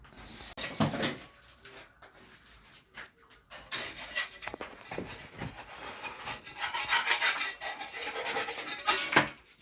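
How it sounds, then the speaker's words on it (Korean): Scraping paint and grime off a ceiling with a hand scraper after the ceiling boards are removed, heard as a steady run of rough rubbing scrapes close by, with irregular strokes and brief pauses and no talk. "천장제 철거 후에 이제 페인트며 이제 지저분한 것을 이제 헤라로 긁는 작업을 하고 있습니다"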